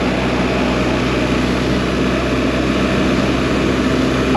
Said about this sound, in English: I know there's loads of wind noise, and I know I don't normally talk a lot when I'm on the motorway.